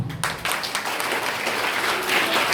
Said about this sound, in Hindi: अगर उत्तर पसंद आए तो जोरदार तालियों से स्वागत करें।